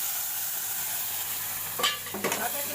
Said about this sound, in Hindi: अब मैं इसमें डालूँगी दूध